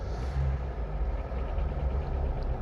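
A car engine with 214,805 km on it runs steadily at raised revs with a low, rough rumble and a faint rapid ticking knock underneath, close up and continuous.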